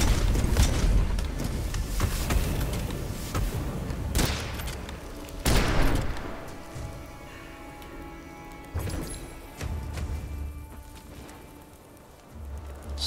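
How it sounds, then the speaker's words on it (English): Exploding barrel in the video game Witchfire: sharp, heavy blasts and booms at intervals among gunfire, loud and close, with rumbling decay between bursts. "A nice exploding barrel."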